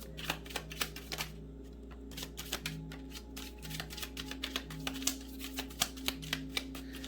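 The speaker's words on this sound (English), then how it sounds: "I'm gonna shuffle one more time." Tarot cards are shuffled in quick bursts of crisp riffling taps, close and quiet, with a faint steady hum in the background.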